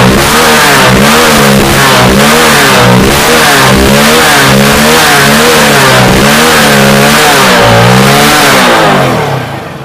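A BS6 motorcycle engine revs repeatedly after a fuel pump replacement, loud and close, rising and falling in steady throttle blips that sweep up and down in pitch before easing off at the end.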